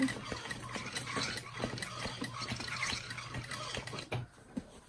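A sewing machine stitches forward through a vinyl handbag with a leather scrap protecting the vinyl, giving a quiet rapid mechanical patter of needle strokes with small clicks, stopping near the end and followed by a couple of isolated knocks.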